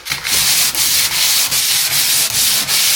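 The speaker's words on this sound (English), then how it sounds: "for sanding, what we're looking for is simply take off all the high stuff" Drywall joint compound sanded in long, loud, continuous abrasive strokes, a rhythmic rasping with brief pauses between passes, close and without speech.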